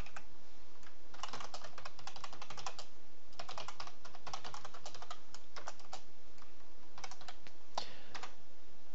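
Fast typing on a computer keyboard while programming in Python, in bursts of rapid key clicks with short pauses between runs, close and clear with no talking.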